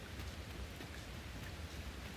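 Steady rain falls in a video game scene, a constant, even wash of hiss and patter that continues without pause and without voices.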